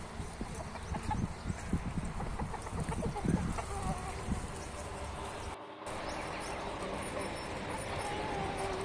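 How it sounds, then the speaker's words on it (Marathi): Free-roaming chickens cluck and call around a village in the morning, faint and somewhat distant within a steady, noisy outdoor background. "कोंबड्याही मोकळे सोडून दिलेले आहे, फिरतात सगळीकडे त्या."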